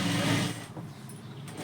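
Sewing machine stitching a blouse sleeve, with a brief louder whir of stitching for about half a second, then settling into a quieter, steady mechanical hum.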